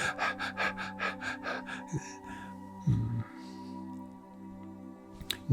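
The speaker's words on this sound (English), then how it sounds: "It generally occurs only in the upper part of the chest, and it's almost like this panting." A person demonstrates shallow, upper-chest panting breaths: a quick rhythmic series of short, close, airy pants for about two seconds, then softer breathing with a brief squishy gasp, over a low steady hum.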